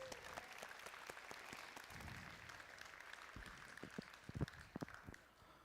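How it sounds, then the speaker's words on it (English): Crowd applause for the judges at a 2024-2025 season Philadelphia City Qualifier robotics competition: faint, scattered clapping heard from a distance, thinning out with a few sharper individual claps near the end. "Let's give them another round of applause."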